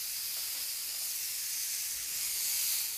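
Peach halves sit cut side down on a hot grill pan, giving off a continuous, even sizzle and hiss that builds a little toward the end, with no talking.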